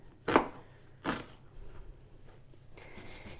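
A large red onion being diced small with a knife, two distinct chops on the board close by, followed by softer quiet handling noise.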